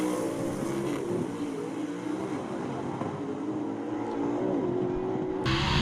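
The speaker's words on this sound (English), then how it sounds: "Never have I seen such aggressive runs by these two cars." Southeast Gassers drag race cars roar down the track at Union, South Carolina, their engines a loud, sustained, rising drone that swells again near the end.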